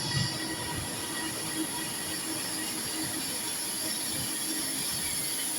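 A ScotRail train passes on the railway, a steady rolling rumble with high wheel squeal and hiss, moderately distant and unbroken throughout.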